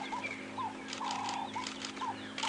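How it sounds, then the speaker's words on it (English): Ring-necked doves, also called Cape turtle doves, calling at sunrise on a safari drive, short repeated cooing phrases at a moderate distance over a steady low hum. "We've got doves calling in the background."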